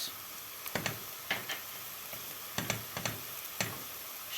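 Onion and garlic sizzle softly in a pan with tomato paste, a steady low frying hiss broken by several light utensil clicks and stirring knocks, with no talk.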